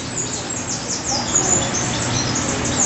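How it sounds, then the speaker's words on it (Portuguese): Birds chirp and call outdoors on a sunny day near laundry hung to dry, several short bright calls scattered over a steady background, fairly close, with no speech. "Tá vendo o canto do pássaros?"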